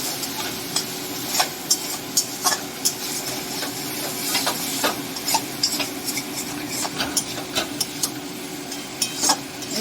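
Spiced tomato masala being stirred in a pan for aloo dum served with pea kachori, a continuous soft sizzle and hiss punctuated by repeated clicks and scrapes of a spoon against the pan, close and steady without talk.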